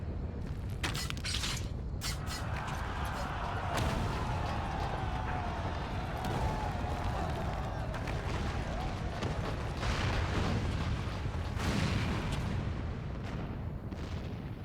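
Cannon fire booms in Final Fantasy XIV as a castle's main tower collapses, with repeated heavy blasts over a continuous rumbling, creaking din and faint voices in the mix.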